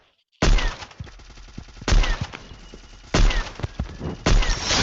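Gunfire in a shooting video game arrives in four sharp bursts of rapid shots, loud and close, with brief quieter gaps between them.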